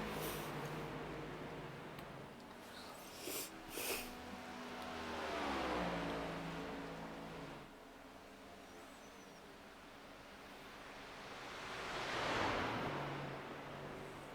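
A NASCAR Gen 7 race car engine in a racing video game at Charlotte Motor Speedway, a steady broadband roar that swells twice as the car passes, under faint background noise.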